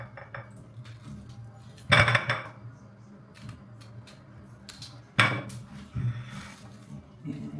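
A knife chops a boiled-for-later plantain, skin on, into pieces on a board in a home kitchen, giving two sharp, loud knocks a few seconds apart over low background hum and small clinks.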